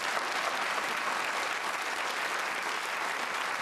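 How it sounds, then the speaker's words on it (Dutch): A TV studio audience on a 1995 Flemish game show applauds warmly, a dense, even clapping that holds steady for several seconds with no voices over it. "Geweldig applaus voor Johan."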